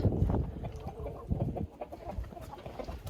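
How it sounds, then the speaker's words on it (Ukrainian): Several crested hens cluck and murmur close by in a busy, overlapping flock, with low burbling calls throughout. "Ось наші курочки чубатурки."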